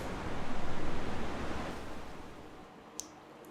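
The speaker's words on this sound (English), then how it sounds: "Interesting how that sound effect is, sounds like waves." Ocean-wave sound effect in a video game, a loud surging rush of noise that swells and rolls rhythmically for a few seconds, then fades into a softer hiss with a brief high tick near the end.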